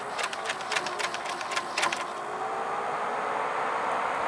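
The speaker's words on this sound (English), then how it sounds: "The fans in it, if you're shaking it around, the fans kind of stop working." Cooling fans of an Aaxa pico projector being shaken around, a steady whirring hum with irregular clicks and rattles early on that settle into an even drone.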